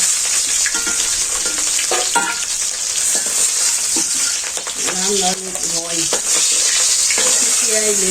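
Fish sizzle as they fry in hot oil in a village kitchen, a steady bright hiss with occasional stirring clatter, while a person talks over it.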